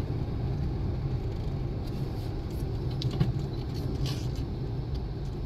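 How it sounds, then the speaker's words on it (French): A milk truck passes on a rural road on Pico Island in the Azores, a steady low engine rumble with faint brake hiss and clanks, moderately distant and without talk. "Toi, t'as le camion de lait."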